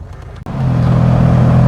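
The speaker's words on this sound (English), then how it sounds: "I'm coming up to the top end of my rev range in 4th gear" A classic MGB GT's engine swells in suddenly after a brief quiet moment, then holds a loud, steady drone as the car drives on the open road in fourth gear near the top of its rev range.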